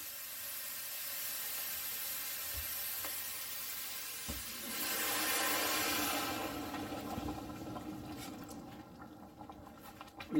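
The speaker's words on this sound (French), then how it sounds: "Et là, on va ajouter le bouillon." Broth poured into a sizzling pot of Indian coriander and lemon soup, a steady frying hiss that swells into a brief louder rush of liquid, then settles back, with no talking.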